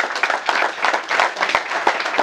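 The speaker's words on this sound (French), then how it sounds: "applaudissez pour lui" An audience at a conference on artificial intelligence claps, a brisk, fairly close patter of many hands in uneven bursts throughout the short stretch.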